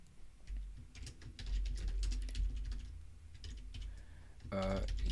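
Quick keystrokes on a computer keyboard come in uneven bursts, fairly close and clear, with a brief louder clatter near the end.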